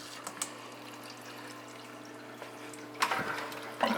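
Water runs through the plumbing siphon of a 40-gallon reef aquarium build, with a soft continuous trickle under a steady hum and a couple of louder gurgling splashes near the end.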